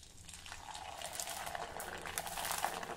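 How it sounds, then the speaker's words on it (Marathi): A sabudana papad fries in hot oil, a soft close bubbling sizzle that swells gradually over a few seconds, quiet and unbroken by talk. "आणखी एक पापड तळून दाखवते।"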